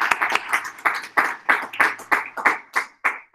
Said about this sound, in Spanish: Muchísimas gracias por estar aquí. Un aplauso.